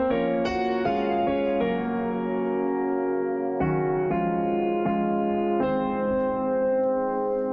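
Slow piano chords from a realistic, slightly imperfect sampled piano instrument by Imperfect Samples, played solo, each chord struck clearly and left to ring in a calm, unhurried rhythm.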